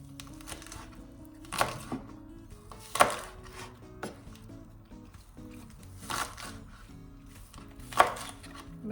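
Several sharp, irregular knife chops of vegetables for kimchi on a cutting board, each a crisp thud separated by short pauses, close by and fairly quiet otherwise.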